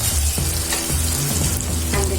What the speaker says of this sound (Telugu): టమాటోలు బాగా ఈ మాదిరి మెత్తగా ఉడికిన తర్వాత